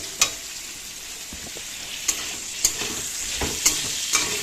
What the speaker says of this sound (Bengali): পটলগুলো দেখো আগে একটু ভেজে নিচ্ছি